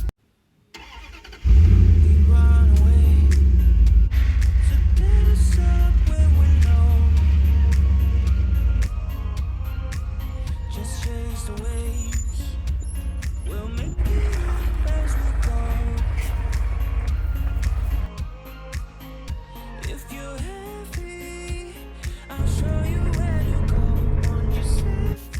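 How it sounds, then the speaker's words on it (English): A car engine starts and runs on a gravel road, a strong low rumble that holds steady with shifts in pitch as it drives, loud and close. "just cruising towards home now on the gravel road"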